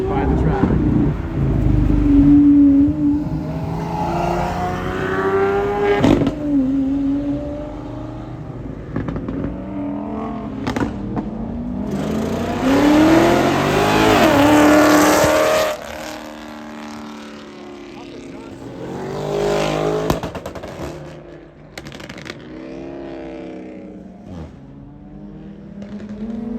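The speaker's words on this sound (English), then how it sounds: "very nasty 12-cylinder Aventador coming up," A 12-cylinder Lamborghini Aventador supercar moves through Florida traffic, its engine rising and falling in loud revving howls and sweeping pitch as it comes close, while people talk over it.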